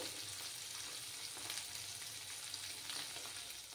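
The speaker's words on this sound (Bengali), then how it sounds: "মাছগুলো ফ্রাই করে নিতে হবে" Tangra fish fry in hot oil for a tel jhal curry, giving a soft continuous sizzle with faint crackles, even and fairly quiet, with no voices.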